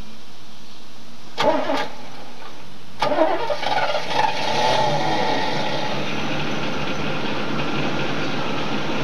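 A 1994 Oldsmobile engine cranks briefly twice and then catches, settling into a steady, moderately loud idle nearby with no talk over it.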